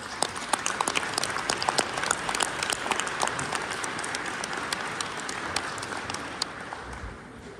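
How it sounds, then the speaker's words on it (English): A crowd claps for the interpreters at a leadership training seminar in Warsaw, Poland, a sustained round of applause with sharp individual claps standing out near the front, gradually thinning at the close. "Please give them a round of applause."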